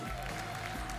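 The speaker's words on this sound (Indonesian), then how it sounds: "Saya tepuk gemuruh untuk pendekar muda" A crowd gives a young silat performer named Faris a round of applause at a competition. The clapping is soft and distant, a continuous even patter with no speech over it.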